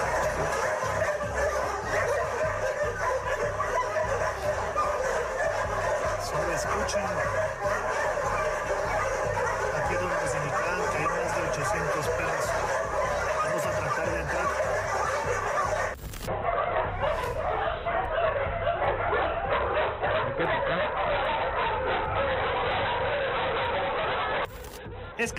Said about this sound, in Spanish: el ladrido de los animales es intenso